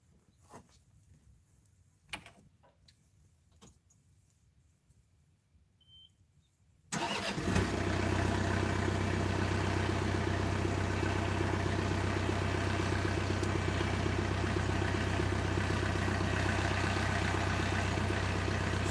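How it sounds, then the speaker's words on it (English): A newer diesel tractor starts after a few quiet seconds of faint knocks and background noise, then settles into a steady, fairly quiet idle that runs without a break to the end. "We'll start the tractor up for a minute"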